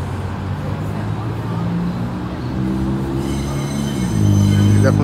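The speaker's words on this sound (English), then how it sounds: "Oh, and there's the train I was talking about." A train passes near a city street hub beside road traffic, its wheels giving out sustained high squeals and tonal screeches over a steady loud rumble that swells toward the end.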